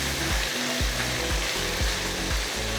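Garlic, ginger and spices fry in a pan with a steady, close sizzle, overlaid by a repeating scrape of a spoon moving them roughly every half second.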